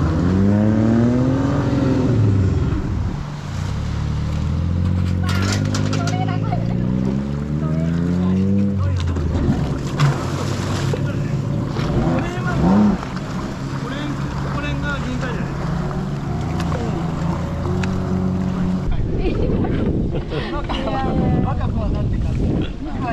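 A 4-stroke SuperJet stand-up jet ski engine idles and runs in low mode outdoors on the water, a steady rumbling drone with rising and falling revs, wind buffeting the microphone and people talking over it.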